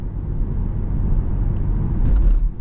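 A 2003 Chevrolet Corvette 50th Anniversary convertible with a six-speed manual drives along dry roads in Minnesota, giving a steady low engine and road rumble heard from inside the car that swells slightly near the end.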